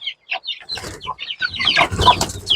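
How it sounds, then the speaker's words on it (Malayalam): A mother hen clucks in quick, close bursts, her short calls rising into a busier flurry of clucking and chatter toward the end. "അതിന്റെ തള്ളക്കോഴിയാണ്"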